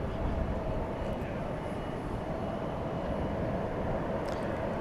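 A SkyWest CRJ-701ER regional jet passes at night at DFW Airport, its engines giving a steady, continuous broadband roar that holds at an even level throughout without breaks or voices.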